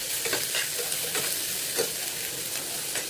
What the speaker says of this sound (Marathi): त्याच्यानंतर आपण गाजर टाकून घेतो आणि हे सगळं व्यवस्थित फ्राय करून घेतो.